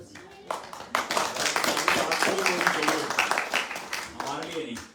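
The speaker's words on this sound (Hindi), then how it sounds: "इनके लिए ताली बजाने का मतलब सबके लिए बजानी होगी" An audience claps in honour of a guest at a devotional gathering in Seattle for the appearance day of Śrī Gaṅgā-devī, a steady spatter of hands lasting several seconds with a voice talking over it.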